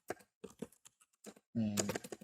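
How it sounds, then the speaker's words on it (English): Keys clack on a computer keyboard in short irregular bursts of taps, close and fairly quiet, followed by a brief spoken word at the end. "Just typing."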